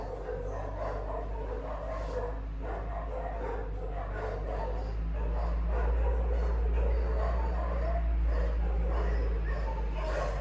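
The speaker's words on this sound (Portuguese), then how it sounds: "os cachorros estão latindo" Dogs bark and yip from a distance in a Brazilian street while a truck passes, sounding as repeated short bursts over a constant low engine rumble.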